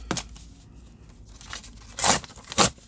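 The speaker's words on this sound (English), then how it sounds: "cut it in half." Material being cut or torn in half to make a stuffed pocket craft: a sharp rip at the start, then quiet, then two louder rasping tears near the end, close up with no talk.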